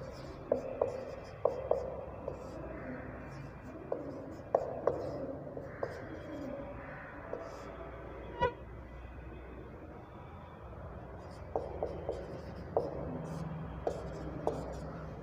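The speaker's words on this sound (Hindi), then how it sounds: "साथियों, ये वापस लिख देता हूँ मैं।" A teacher writes on a classroom board during an education psychology lecture, making short scratchy strokes in uneven bursts. They sound moderately close against a faint, steady room background.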